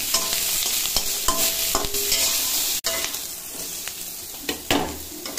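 Bata fish fry in a pan with a loud, constant sizzle, broken by several sharp clatters and scrapes of a utensil and one brief dropout partway through.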